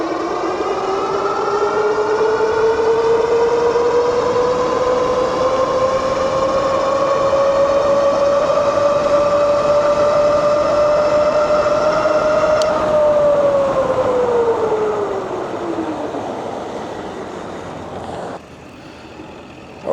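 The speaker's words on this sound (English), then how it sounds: "we'll show you the acceleration on dual motor" A RINCC RN86 dual-motor electric bike accelerating hard on both motors along Clearwater Beach, its loud rising motor whine climbing steadily in pitch for about thirteen seconds, then falling away as it eases off.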